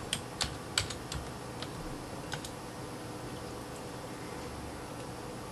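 Typing on a computer keyboard to enter a file name, a few sharp key clicks early on and then sparse taps over a steady background hiss.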